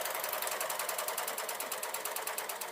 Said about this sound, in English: I'm just going to sew that off there and trim the excess.